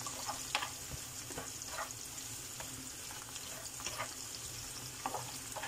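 Garlic frying in olive oil in a pan: a quiet, steady sizzle with soft scattered crackles and occasional stirring clicks. No one speaks.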